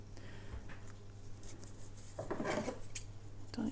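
Quiet, close snipping of scissors through paper, a few soft cuts with faint rustling in between.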